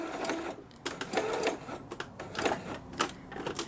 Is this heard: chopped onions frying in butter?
no